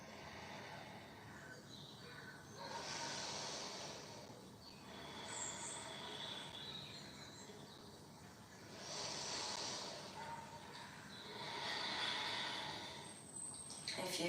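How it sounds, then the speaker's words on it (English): Slow, deep breaths during a live yoga session, with soft airy inhales and exhales rising and falling in long, even waves, close and quiet. "Coming back to your breath with a deep inhale and a slow, steady exhale."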